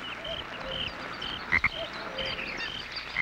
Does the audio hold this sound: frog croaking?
yes